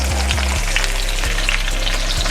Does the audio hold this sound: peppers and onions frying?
yes